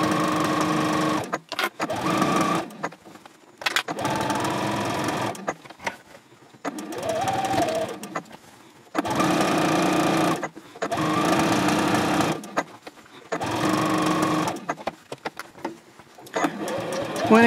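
A sewing machine top stitches around the edge of a fabric basket from the lining side at a 3.0 stitch length. It runs in steady bursts of a few seconds each, with short pauses between them, and sounds close and fairly loud.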